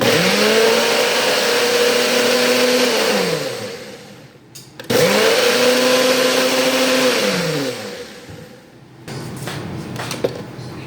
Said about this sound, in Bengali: এবার হচ্ছে ব্লেন্ডারে দিব